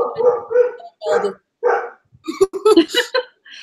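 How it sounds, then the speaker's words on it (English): Several dogs barking indoors in short, loud bursts and yips, spaced irregularly and closely grouped toward the end, with no talking heard among the barks. "Sorry, my dogs are barking."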